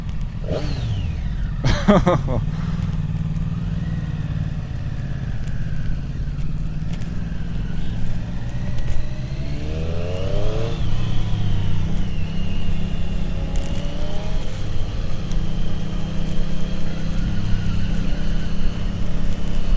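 A 2018 Triumph Street Triple RS three-cylinder engine runs with a steady, close, loud drone, rising and falling in pitch as it revs, with wind noise over the ride.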